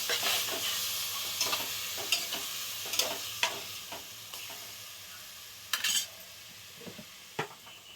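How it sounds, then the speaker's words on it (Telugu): Mint leaves and green chillies, with tomatoes, sizzle steadily in a hot pan, cooking for a festive Telugu home meal. A steady frying hiss runs throughout, broken by sharp clacks of a spoon stirring against the pan. "పుదీనా, పచ్చిమిరపకాయలు కూడాను అలా బాగా మగ్గిపోతాయి"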